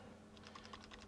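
Rapid keystrokes on a computer keyboard while running a program from the command line for a DIY wearable AI device, a quick irregular burst of clicks over a steady low hum, close and moderately quiet.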